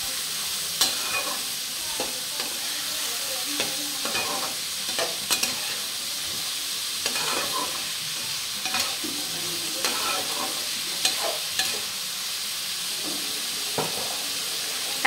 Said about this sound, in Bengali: এখন হচ্ছে আলুটাকে পেঁয়াজের সাথে ভালো করে ভেজে নিতে হবে।